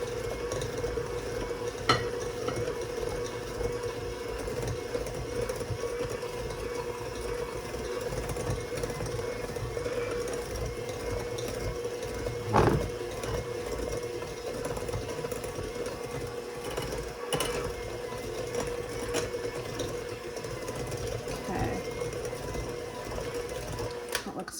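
A stand mixer churns sugar cookie dough with an added egg, giving a steady motor whir with faint scraping, constant and close throughout.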